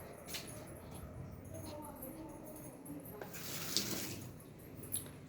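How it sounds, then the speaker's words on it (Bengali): Hands are washed under a running tap, water splashing softly and unevenly for several seconds, with a louder burst near the end and a voice faintly in the background. "চলো হাতটা ধুয়ে আস"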